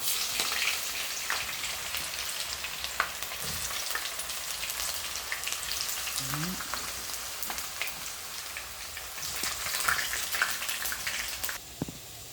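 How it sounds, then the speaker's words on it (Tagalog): Potato pieces fry in hot oil in a pan, a steady dense crackle and sizzle like rain, close and continuous, with a few clinks and scrapes over it. "habang nagprito tag patatas"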